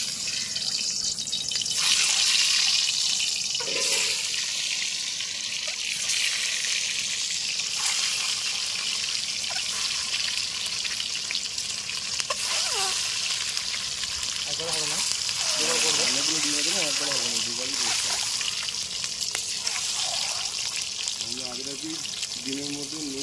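Eggs seasoned with salt and turmeric frying one by one in hot oil in a wok, a steady broadband sizzle running throughout, with background music and other kitchen noise on top of it.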